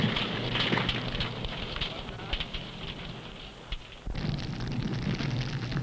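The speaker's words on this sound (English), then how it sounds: "Sometimes the explosive detonates because of close confinement and intense heat." A conventional explosive burns with a steady roaring crackle after detonating, dense and rumbling like heavy rain on a surface, with a sharp jump in intensity near the end.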